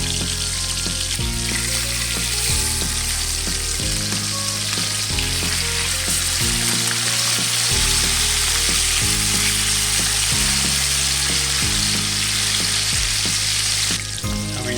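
Steady, loud sizzling of tuna fish frying in a hot pan, continuous crackle and spatter throughout with no voices.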